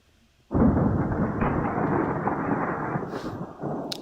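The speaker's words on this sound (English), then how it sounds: "Sounds a little stormy out." Thunderstorm in the Professor Layton vs. Phoenix Wright: Ace Attorney video game: a loud, sustained rumble of thunder rolls in abruptly and keeps booming steadily for several seconds, with a brief swell near the end.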